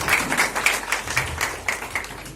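A crowd at a welcome for Jabalpur mayor Jagat Bahadur Annu Bhaiya claps in a short burst of brisk, uneven applause, moderately loud and close.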